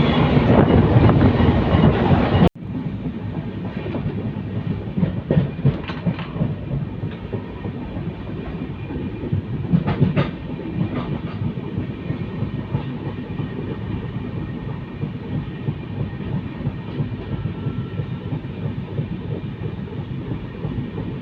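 The Panchaganga Express, train 16595, runs through hilly country, its carriages rumbling steadily with a rhythmic clickety-clack of wheels on rail joints; a loud burst opens the clip before settling into continuous moderate rolling noise with no talk.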